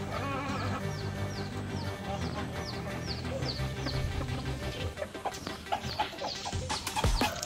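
Black Phoenix chickens cluck and call in a busy poultry setting, with repeated short calls from several birds over steady background noise and other animals nearby.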